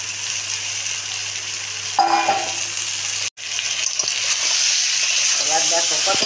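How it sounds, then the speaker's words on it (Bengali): Crab pieces frying with spices in a hot pan, a steady close sizzle throughout that surges louder when added, with brief stirring scrapes and a short break midway. "এবার কাঁকড়াটা দিয়ে দিই, কাঁকড়াটা আমি ভাজলাম না, এখানেই আমার কাঁকড়া ভাজা হয়ে যাবে।"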